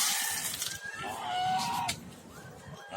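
A hungry pet goose calling out in repeated nasal honks and squawks, fairly faint and close, with other poultry sounds mixed in and no talking.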